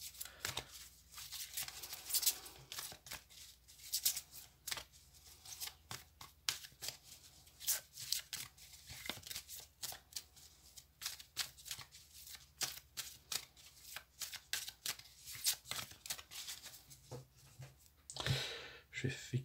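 Oracle cards being shuffled for a reading, a steady run of close papery riffles and soft slaps with brief pauses, getting busier and louder near the end.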